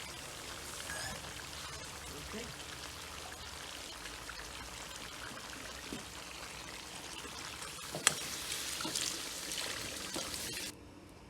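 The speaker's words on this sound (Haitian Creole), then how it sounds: "ça c'est de l'eau nous mettons pour sauce là" Water is poured into a cooking pot to make a sauce, a steady close trickling pour running for several seconds with a few brief splashes near the end.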